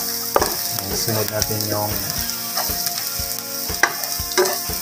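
Garlic sizzling in hot oil in a pan, a steady bright crackle with repeated stirring and spatula clacks against the metal, close and fairly loud, with a brief spoken phrase over it.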